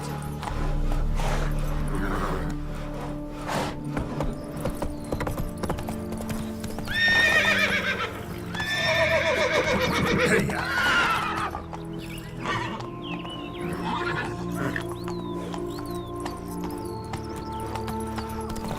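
Hooves of a horse in The Witcher 3 clip-clop steadily throughout, broken by two loud, drawn-out neighs in the middle, with game ambience underneath.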